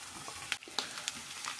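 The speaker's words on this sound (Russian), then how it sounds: "Когда лучок зарумянится, выкладываю нарезанное мясо." Chopped beef lung fries with browned onions in a skillet, with a soft sizzle and a few quick clinks and scrapes from stirring in a brief, fairly quiet moment.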